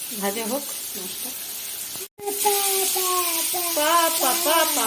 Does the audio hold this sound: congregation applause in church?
no